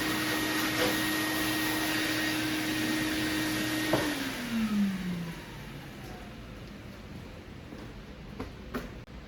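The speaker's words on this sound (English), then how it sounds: "You can blow it off with a blow gun too." A compressed-air blow gun running in an autobody shop, a steady loud hiss of air blowing dust off a sanded car body panel, with a faint tone sliding down partway through before the blast eases slightly.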